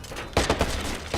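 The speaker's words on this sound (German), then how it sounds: "Wer schießt da?" Gunfire in the Watch Dogs video game comes as a quick burst of three or four sharp shots in rapid succession, moderately loud against a low background hum.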